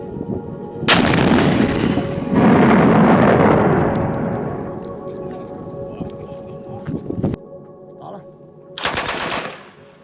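A gun fires a single loud, sharp blast followed by a long rumbling decay, then a second sharp report near the end, with quiet ambience between the shots.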